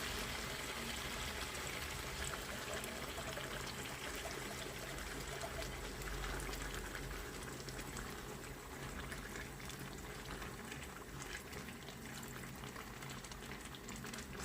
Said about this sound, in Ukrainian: Ось тепер заливаємо вершками.